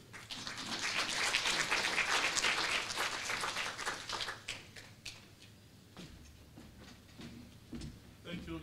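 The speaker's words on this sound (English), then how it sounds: "Let's give DM round of applause again, please" Audience applause at a public service HR convention after a speech, dense clapping for about four seconds that thins to scattered claps, with a speaker talking over the tail.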